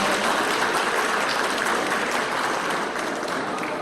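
An audience at an expo ceremony claps to welcome the president of a venture business association, a full, even burst of applause from many people, steady and fairly loud for a few seconds.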